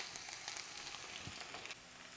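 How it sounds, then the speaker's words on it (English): Garlic smashed potatoes fry in a pan with a soft, continuous crackling sizzle, heard faint and close with no talking. "now that these are really frying away"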